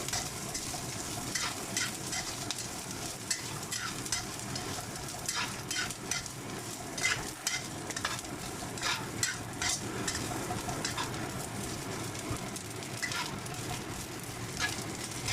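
Dried preserved squid frying in a pan while being stirred, a continuous close crackling sizzle with repeated scraping strokes throughout.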